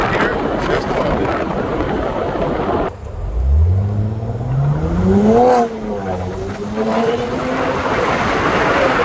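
A 2025 BMW M4 Competition's upgraded valved exhaust drones loudly, cuts out briefly, then roars back with rising revs in performance mode, swelling to a peak and settling into a deep rumble.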